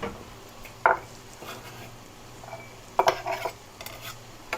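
Onions in a pot are stirred with a utensil, giving a few sharp scraping clinks against the metal over a soft background hiss, with quiet gaps between the strokes.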